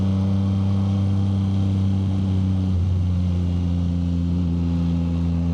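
A Yamaha MT-09 motorcycle pulls onto a freeway, its engine holding a steady loud drone with a clear tonal shift partway through as it accelerates, over constant wind rush.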